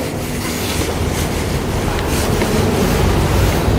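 Water poured to rinse a patient's lower body during perineal care, a steady broad rushing wash that runs continuously through the whole stretch without a break.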